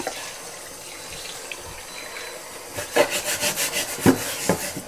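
Fish rinsed lightly in a single change of water, quiet at first, then a burst of sloshing and rubbing splashes in the last couple of seconds, no talk.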